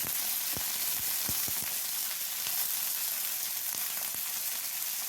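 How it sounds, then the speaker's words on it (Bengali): Steady frying sizzle fills the clip, with occasional sharp clinks of a spatula stirring potato and cauliflower in a hot pan. "আলু ফুলকপিটা প্রথমে একটু নাড়াচাড়া করে একটু ভাজা ভাজা করে নেবো"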